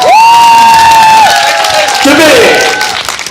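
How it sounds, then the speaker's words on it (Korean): An audience bursts into loud applause and cheering, with a high sustained whoop rising above the crowd for the first second or so before the cheers and clapping gradually trail off. "박수 한번 크게 주세요."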